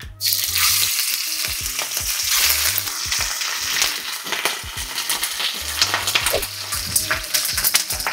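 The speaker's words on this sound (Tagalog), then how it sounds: "Sinisir ko muna yung meat na gamit ko. Ang gamit ko ditong meat, oxtail at saka ribeye." Oxtail and ribeye sear in a hot pan with a loud, steady sizzle and crackle, with occasional scrapes and stirring knocks close by.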